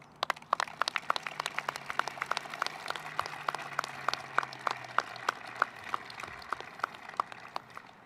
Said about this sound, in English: Please take a moment and give yourselves a round of applause.